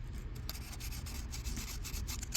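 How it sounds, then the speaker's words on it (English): A wire brush is rubbed across the rusty edge of an old Marine Flathead engine part, giving short scratchy strokes in a quick uneven rhythm, close and fairly quiet. "Our main focus is just to lightly brush the edge of this. Clean up any residual surface rust."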